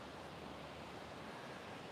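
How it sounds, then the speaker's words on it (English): Ocean waves washing onto the shore at an oceanfront in San Diego, a steady broadband roar with a breezy wash, faint and distant, no voices. "noticing the sound of the ocean, that ocean breeze"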